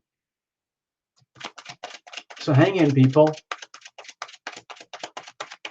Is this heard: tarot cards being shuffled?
yes